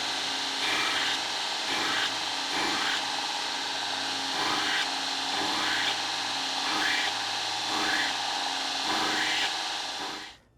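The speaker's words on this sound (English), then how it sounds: "that's what I'm grinding these bevels to initially" Steady whining hum of a belt grinder cutting bevels on an all-metal knife blade, with a rhythmic rise and fall as the blade is passed repeatedly across the belt, then the motor winding down.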